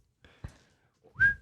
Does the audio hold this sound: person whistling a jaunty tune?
yes